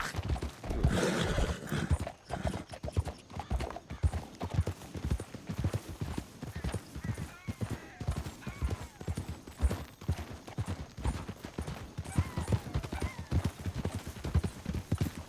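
Horse hooves clip-clopping steadily in Red Dead Redemption 2, a continuous rhythmic trot close by, with occasional faint game sounds beneath.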